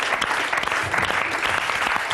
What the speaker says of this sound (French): Ça s'applaudit une réplique comme ça